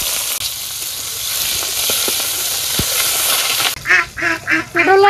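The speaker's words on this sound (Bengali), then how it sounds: "কড়াইতে তেল দিয়ে দিলাম, পেঁয়াজ কুচি কাঁচামরিচ কুচি দিয়ে দিলাম" Chopped onion and green chili hiss and crackle steadily in hot oil in a wok for several seconds; the sizzle then drops away as a few loud, honking fowl-like calls break in close by.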